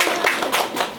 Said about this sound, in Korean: 우리 응원해 주는 박수.